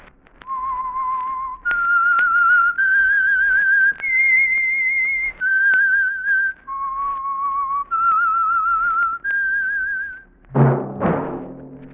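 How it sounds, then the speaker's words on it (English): A human whistler performs the eerie theme of The Whistler radio mystery program, a slow melody of sustained pure notes in separate phrases, clear and close, ending with a brief louder burst of sound. "That whistle is your signal for the Signal Oil program, The Whistler."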